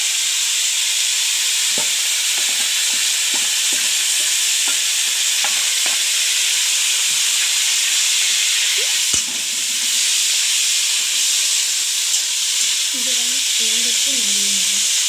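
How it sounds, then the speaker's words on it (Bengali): Onion marinated in salt fries without oil in a pan while a spoon stirs and scrapes it, a loud continuous hiss of steam and sizzle broken by regular scraping strokes, close up, with a brief voice near the end. "এবার এটাকে ভালোভাবে একটুখানি ভেজে নেওয়া হবে, নাড়িয়ে নেওয়া হবে।"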